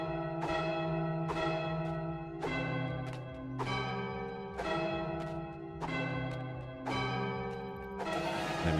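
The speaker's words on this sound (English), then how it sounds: "we need to play Imperial March on these bells" A run of tuned bells rings out the Imperial March in the video game Goat Simulator 3, each struck note clear and resonant with long decaying tails, played alone in a steady marching rhythm.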